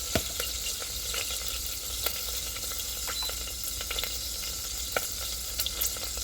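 About a cup of onions sautéing in hot olive oil in an Instant Pot on its saute setting, a steady soft sizzle with scattered small pops and crackles throughout.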